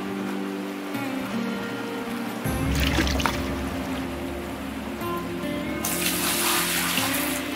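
Water from a hose washing down gold-bearing dirt in Gold Rush: The Game, a steady rushing spray over a low engine hum, growing louder and brighter partway through and holding to the end.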